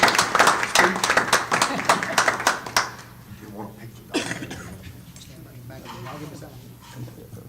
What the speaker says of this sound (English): Ladies and gentlemen, let's give a round of applause to Dr.